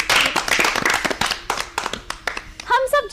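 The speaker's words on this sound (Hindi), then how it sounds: "चलिए इनके लिए तालियां तो बजाइए।" Student audience at a school program clapping for a storyteller: a burst of close, uneven hand claps that thins out over a few seconds, with a voice starting to speak at the end.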